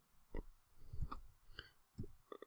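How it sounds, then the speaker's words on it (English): Keys tapped one-handed on a computer keyboard, giving a few scattered, irregular clicks at close range with no voices. "So I'm actually typing with the one hand because I got my mouse on the other"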